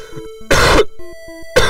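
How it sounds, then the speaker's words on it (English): A person coughs twice, two short harsh bursts about a second apart, loud and close over soft tonal background music from the Final Fantasy II game. "Don't catch my cough."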